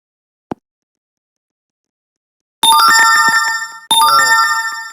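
After a single faint tap, a bright chiming notification tone from an Android phone app sounds loud and close, playing twice in a row with a brief gap.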